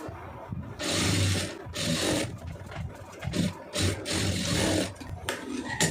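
A sewing machine stitching a boat neck on fabric runs in several stop-start bursts of whirring and rattling, each a second or so long, close and fairly loud.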